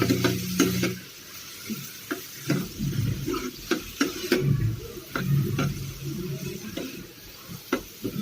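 Onions fry in oil in a pan for tomato chutney, a soft sizzle broken by repeated scraping and stirring knocks of a spoon, close and fairly quiet with no talk.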